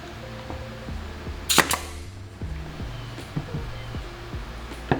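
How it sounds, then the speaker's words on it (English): A pneumatic nail gun drives a nail into a scrap piece of oak with one sharp, loud crack. Softer clicks and a low steady hum of machinery surround the shot. "I'm gonna test a scrap piece of oak before I shoot any nails in this"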